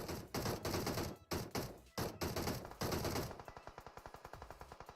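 Automatic weapons fire in the mobile battle game PUBG Mobile: loud, close bursts of rapid shots in choppy clusters, then a fast, even rattle of single rounds that gradually fades.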